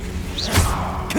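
Casting the Confringo spell in a Harry Potter video game produces a short whooshing burst with a low thump in the middle, close and brief, followed by a faint swish.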